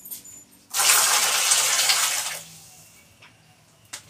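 Water gushes loudly into a bowl of cut potato, eggplant, green chili and beans for about two seconds, then trickles and splashes faintly, with a couple of small knocks.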